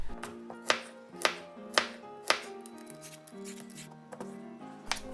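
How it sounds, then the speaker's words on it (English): A knife chops burdock root on a cutting board, giving several sharp, evenly spaced close taps followed by softer cuts, with steady music playing underneath. "Cut the butter root and put in the vinegar water."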